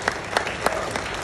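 A graduation audience applauds in a brief, dense burst of many hands clapping together, with a few louder claps punctuating the steady patter at roughly regular intervals.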